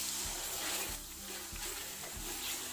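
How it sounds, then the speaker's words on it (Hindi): Water splashed into a pan of frying red chili powder, turmeric and salt, giving a steady hissing sizzle with soft bursts of crackle, fairly close and alone. "हल्का सा पानी का छींटा लगाएंगे।"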